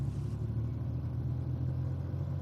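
A Porsche engine runs at a steady, low idle, giving a faint, even rumble with no voices over it.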